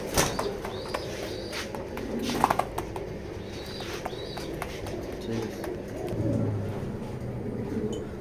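Pigeons in a breeding loft of fancy pigeons coo in low, rolling bursts, with a fuller stretch of cooing near the end, over steady close background noise.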